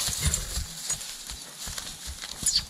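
A mare's hooves clip-clop in an uneven walking rhythm close by, stepping steadily across hard ground with little else around.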